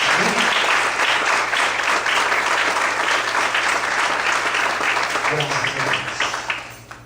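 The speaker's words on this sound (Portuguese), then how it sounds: "Desocupe a sua mão e aplaude o Senhor com alegria" A congregation at an evening church service claps joyfully in praise, loud continuous applause throughout, with voices calling out over it before it tapers off at the end.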